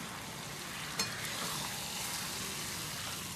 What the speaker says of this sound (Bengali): দেখতেই পাচ্ছেন আমি কষাচ্ছি আর ধীরে ধীরে করে এটার মাংস থেকে তেল বেরিয়ে এসছে।